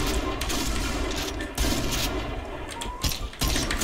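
Dense gunfire in the Point Blank online shooter, with a sniper rifle among loud, continuous overlapping shots and sharp cracks recurring throughout.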